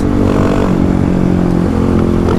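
Kawasaki KLX300 dirt bike fitted with a big bore 351 kit, geared down, revving loudly and close by, with the engine note rising and falling steadily throughout.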